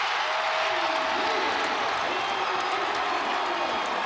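A basketball arena crowd at a Western Kentucky at North Texas game roars and cheers steadily, a dense, loud wash of voices sustained throughout, with an announcer's talk layered over it.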